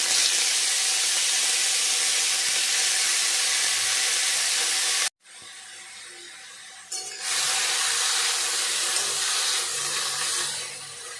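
Chopped banana stem dropped into hot oil seasoned with whole cumin: a loud, steady hiss of frying, then a sudden cut to a quieter, lower sizzle that keeps going.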